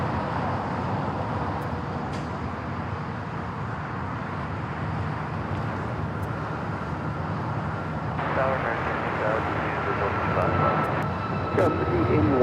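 A Southwest Airlines Boeing 737 MAX 8 takes off at LAX, a broad distant jet roar that swells gradually over the runway, mixed with faint background traffic.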